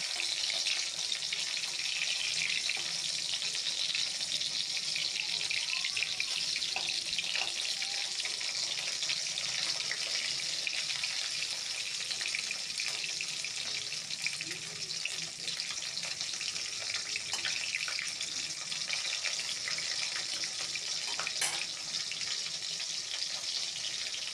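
Pieces of hilsa fish fry in oil with an even, unbroken hiss of sizzling that holds at a moderate level for the whole stretch, with no voices.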